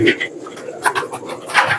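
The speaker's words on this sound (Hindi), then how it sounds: "ये ओरिजिनल फनियर कबूतर" A fantail pigeon, a red phanair bird, coos in short repeated low calls close by, with a voice heard at moments.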